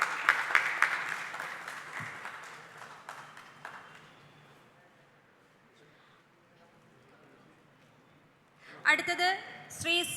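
An audience in a museum hall claps at a nature photography club's annual award ceremony, a burst of applause that gradually thins and fades into a quiet room before another sharp burst near the end.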